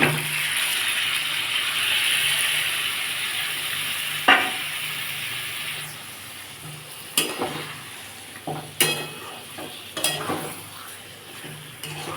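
Fried chicken pieces dropped into sizzling spiced masala in a pan, a loud hiss that fades, then sharp metallic clatter of a spoon scraping and stirring against the pot at irregular intervals.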